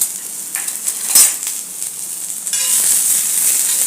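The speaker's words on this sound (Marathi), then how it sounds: "हा कांदा याच्यावरती भाजून घ्यायचा आहे आणि भाजताना हा कांदा सगळीकडे व्यवस्थित सगळीकडे पसरेल असा भाजायचा आहे" Chopped onion roasting on a new cast-iron tava, a steady frying sizzle with scraping and stirring, a sharp clink near the start and the hiss growing louder in the second half; no voices.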